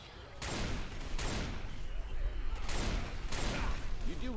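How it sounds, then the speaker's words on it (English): Repeated bursts of gunfire in the video game Left 4 Dead 2, loud sharp volleys recurring about every second over a dense noisy game background, with voices talking in the mix. "You do realize that you're shooting me, right?"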